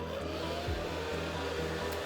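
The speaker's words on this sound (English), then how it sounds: "my blow dryer is on medium and I think I'm gonna go low" A blow dryer turned down to its low setting, drying natural hair cut in a tapered style, gives a steady, close airflow whoosh with a low motor hum that holds evenly throughout.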